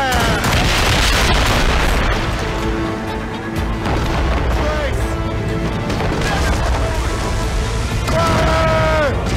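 Ship cannons fire in a naval battle in the video game Assassin's Creed Rogue, heavy booms and thuds rolling over one another at loud, steady volume beneath shouted voices and game music.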